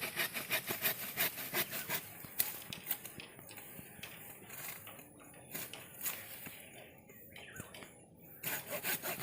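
A hand saw cuts a lemon tree branch during pruning, its steady rasping back-and-forth strokes close and continuous throughout, pausing briefly near the middle.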